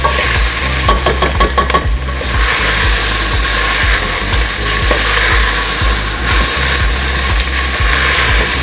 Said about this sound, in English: Swirl them around so they get a bit of that flavour on them with the tomatoes and the onion, and mix it all together